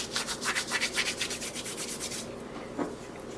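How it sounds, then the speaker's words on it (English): Dried rosemary crushed between the palms for a supper dish, a soft papery rustling in quick rhythmic rubs, close and clear, fading after a couple of seconds with one last brief brush. "Just some dried rosemary, and I like to rub it between my palms."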